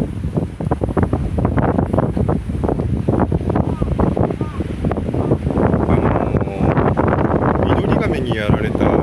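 Strong wind blows across an open marsh full of lotus plants, roaring steadily and loudly against the microphone for the whole stretch with constant low buffeting and no clear pauses.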